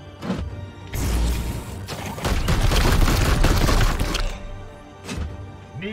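Support gunfire in the video game Warhammer 40,000: Chaos Gate Daemonhunters erupts as a loud, dense burst of rapid shots and impacts lasting a few seconds, framed by quieter isolated thuds before and after.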